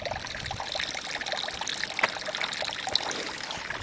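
Water pours and trickles steadily over an old dam at a pond in a winter wildlife refuge, a continuous broadband splashing rush held at an even level throughout with small bright droplet splashes, heard close with no voices.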